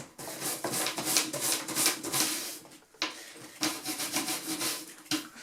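A brush rubs repeatedly over the leatherwork of an East German helmet during restoration, a close, steady scrubbing rasp in uneven strokes with brief pauses, no talking.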